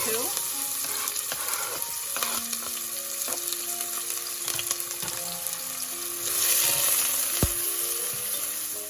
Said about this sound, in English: And then I'm gonna saute my onions for a minute or